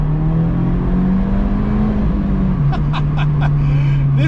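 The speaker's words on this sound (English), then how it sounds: "This car immediately sounds louder than the Cayman GT4 because it's a 2016 car and it has no OPF" A 2016 Abarth 124 Spider without a particulate filter runs its engine, a loud steady droning note with a slight dip in pitch midway, and a few short higher bursts toward the end.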